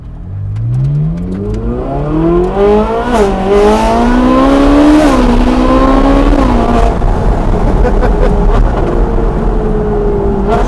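A Ferrari 458 Speciale engine revving hard and loud, climbing in pitch and dropping sharply at quick gear shifts before pulling again, close and dominant throughout.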